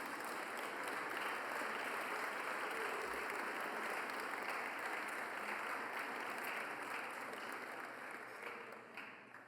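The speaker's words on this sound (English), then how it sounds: "Please give them a thunderous round of applause." An audience at an awards ceremony for progressive leadership applauds in a steady, dense wash of clapping that holds evenly from start to finish, heard at a distance and without talk.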